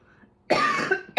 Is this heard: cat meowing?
no